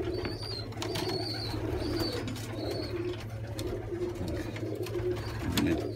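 Pigeons coo softly in repeated low rolling calls from a nest where a dove sits on eggs, close and continuous over a steady low hum.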